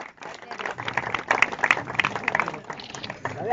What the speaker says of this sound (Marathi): जोरदार टाळ्या धनश्रीसाठी